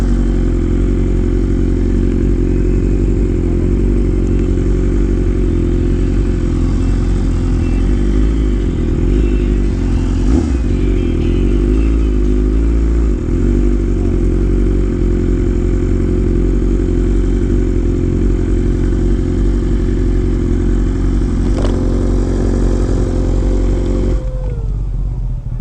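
Sport motorcycles roll in and park at a bike and car show, their engines making a loud, steady close-up drone with a brief rev swell partway through and a final rise before cutting off.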